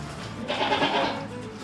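Young goats in sweaters bleating close by on a farm, one loud wavering bleat rising out of quieter background noise and trailing off.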